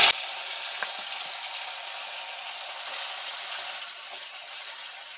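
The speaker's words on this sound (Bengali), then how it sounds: "একইভাবে ওরকম করে এই মাছগুলো ভেজে নেব" Lote fish fry in hot oil with a steady, even hiss and fine crackle, close and moderately loud, with no voices and only a faint clink near the start.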